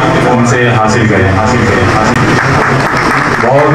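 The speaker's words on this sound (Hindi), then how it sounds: "बहुत सारी तालियों के साथ मेगा फाउंडेशन ऑफ पाकिस्तान के लिए" Applause fills an award ceremony hall at a Karachi Aviculture Club bird society event as a team collects its award, a dense, steady roar of clapping with a voice speaking over it throughout.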